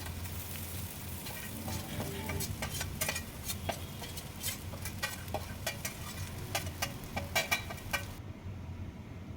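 Idli pieces and curry leaves fry in a pan for a snack, giving a steady close sizzle with scattered sharp crackles and pops that thins out near the end.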